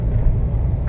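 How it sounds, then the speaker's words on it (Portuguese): A double-trailer fuel truck rolls past on a road, a steady low rumble of heavy engine and tyre noise filling the moment at close range, with no voices. "mais um bitrem passando ali do combustível Fit"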